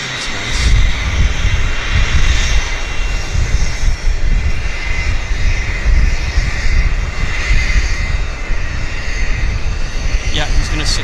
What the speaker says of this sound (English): he's going to sit here beside the Phenom, run engines, burn gas, make noise, etc.